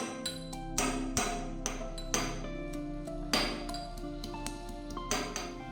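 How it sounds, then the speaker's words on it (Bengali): Green chillies being crushed into a paste for mustard hilsa, heard as a run of sharp, irregular clinks and knocks of hard utensils. The sound is close and fairly loud, over a steady tonal background. "সর্ষে ইলিশ প্রস্তুত করার জন্য যে লঙ্কা বাটা প্রয়োজন সেটি এখন তৈরি করে নিচ্ছি"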